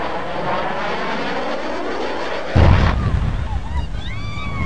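Aircraft engine roaring at an aerial display in Japan, a steady loud drone with wind buffeting that swells into a sudden heavy boom and rumble partway through, followed by high whining tones.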